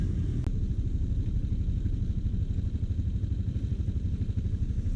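A loose motorcycle engine in need of oil idles after starting, a steady low rumbling putter that runs unbroken throughout, close and fairly loud with a faint clatter on top.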